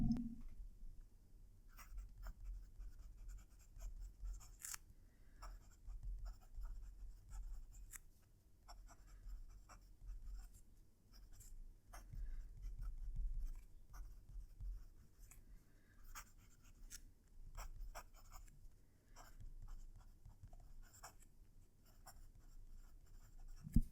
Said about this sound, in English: Moving the mic closer for our second writing sample.